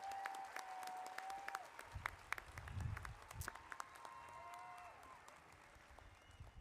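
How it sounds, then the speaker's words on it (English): A commencement audience at a 2022 College of Education ceremony gives a round of applause, heard faint and distant as scattered, steady clapping over a soft room hum. "Can we give her another round of applause,"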